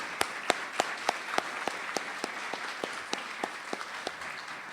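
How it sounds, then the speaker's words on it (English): Sparse, light applause for committee chair Jennifer Burns at a history conference keynote at Stanford: about fifteen distinct claps, some close and sharp, spread unevenly over a quiet room. "I wonder if we could all give her a round of applause for her great work"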